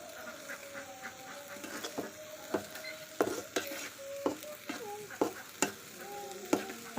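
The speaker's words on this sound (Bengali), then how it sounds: "এইভাবে ভালো করে নাড়াচাড়া দিয়ে সেদ্ধ করে নিতে হবে" Noodles boiling in a pan on a stove while a utensil stirs them: soft bubbling underneath, with irregular scraping clicks and knocks from the stirring, close and fairly quiet.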